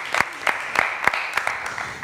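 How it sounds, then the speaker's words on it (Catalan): A small quiz show studio audience gives a short burst of applause, a handful of distinct close claps in an uneven rhythm over about two seconds. "Un fort aplaudiment per en Jordi."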